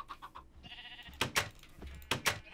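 Sheep bleat in the Minecraft video game, a few short nasal calls over soft clicking game sounds, moderately close.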